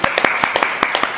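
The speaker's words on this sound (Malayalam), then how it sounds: "അടി, കൈയടി." Hand clapping after a child wins a points-scoring quiz game against a parent, a quick, uneven run of about a dozen sharp claps, close and fairly loud, from a few people.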